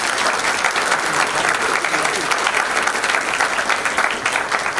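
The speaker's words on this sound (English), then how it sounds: "Please join me in congratulating all of you one more time with a very big applause." An audience at a BBA honors program event gives loud, continuous applause, a dense wash of clapping with crowd noise that fills the space throughout.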